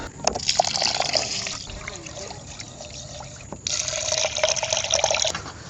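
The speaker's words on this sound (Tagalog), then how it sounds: "maghugas na tayo ng traditional way na paghuhugas ng bigas" Rice is washed by hand the traditional way at a campground, water swishing, trickling and splashing continuously up close against faint outdoor background.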